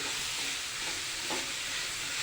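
Shredded cabbage and chopped tomatoes being stirred in a hot pan, giving a continuous loud sizzling hiss with soft scraping swells from the spoon and no voices.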